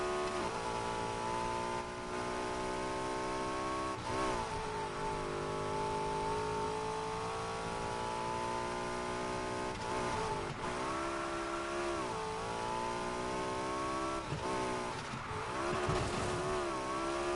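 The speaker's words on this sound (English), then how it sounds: "It kind of does sound like a naturally aspirated V8" A hybrid car in the racing game Need for Speed Heat revs with a rich, steady engine note that sounds like a naturally aspirated V8. The pitch rises and falls through repeated throttle swells, with no voices over it.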